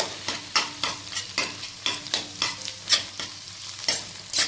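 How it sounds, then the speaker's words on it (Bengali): Pumpkin halwa sizzles in a wok while a utensil scrapes and stirs in a quick, regular rhythm of short bursts, close and clear. "দেখেন এই যে ভাজছি এখন এই যে কড়াইতে লাগে"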